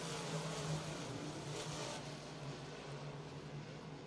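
Modified race cars roar around a speedway, a dense, continuous engine drone heard from a distance with no voices over it.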